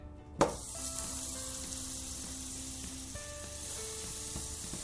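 Three tablespoons of butter drop into a hot, smoking pot with a sharp hit, then sizzle steadily as the butter melts. The sizzle is close and even, with no talking.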